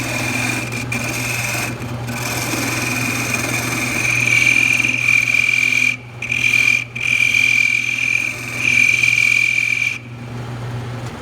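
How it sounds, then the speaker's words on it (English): Wood lathe spinning a small knob at about 1,000 to 1,200 RPM while a double-edged skew chisel shaves the surface, giving a steady motor hum under a sustained close scraping hiss that swells and briefly breaks off a few times. "So I'm just holding the piece out flat, just shaving off the material."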